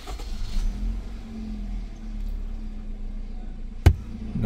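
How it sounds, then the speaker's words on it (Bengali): A used 2015 Toyota Premio, 1500 cc, runs with a low, steady engine hum close by, joined by one sharp click near the end; no one speaks. "গাড়ি স্টার্ট দিয়ে দেখি।"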